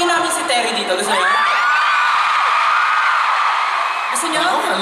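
A large concert crowd at a finale screams and cheers loudly and continuously, with a sustained high whoop rising above the roar and voices mixed in throughout.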